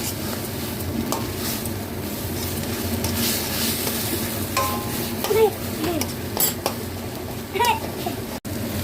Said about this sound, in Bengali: এটা খুব নেড়ে নেড়ে এটা শুকনো করে নিতে হবে